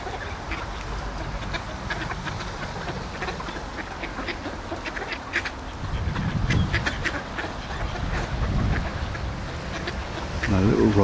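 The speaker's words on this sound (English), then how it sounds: "Some happy ducks." Ducks quack in scattered bursts at close range, with splashing and rustling outdoors and a louder flurry toward the end.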